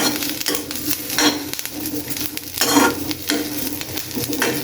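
Green chillies and garlic frying in a pan, with a loud sizzle broken by repeated rhythmic scraping and stirring strokes of a utensil against the metal, close up and without talking.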